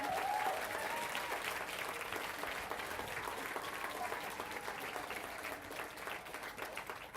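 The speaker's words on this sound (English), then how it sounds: "applause, I think, is appropriate" Steady audience applause at an Advertising Week Europe event, a continuous dense patter of many hands held at an even level throughout, with faint voices beneath.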